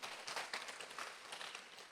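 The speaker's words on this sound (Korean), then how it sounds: "하나님께 영광의 박수 한번 드리겠습니다" Faint applause from a church congregation during a prayer meeting, a soft patter of clapping heard from a distance for about two seconds.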